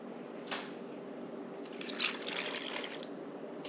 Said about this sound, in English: Now you're going to put the 12 ounces of evaporated milk.